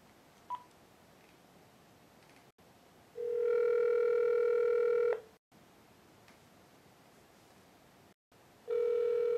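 An outgoing telephone call rings back in steady repeating tones, each long ring separated by silence, clear and moderately loud with no talking.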